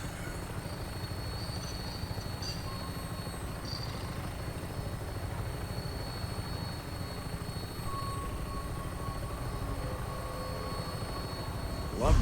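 An aircraft on final approach in the game Fallout 4 gives a steady, continuous rotor-like drone with a low rumble that holds evenly throughout, with a brief louder burst at the very end.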